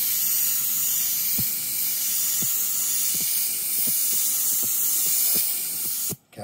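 Airbrush spraying paint in a continuous loud, close hiss of compressed air that holds steady for several seconds, punctuated by faint ticking clicks, then cuts off abruptly at the end.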